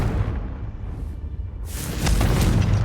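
A Confringo blasting spell explodes in Hogwarts Legacy, a deep rumbling boom that swells into a loud whooshing burst in the last second, with no voices.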